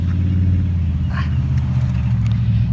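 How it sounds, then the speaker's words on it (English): A truck drives past a roadside spot beside a park at sunset, giving a steady, loud low engine rumble that holds close throughout with a slight swell near the end, and no voices. "Truck going by."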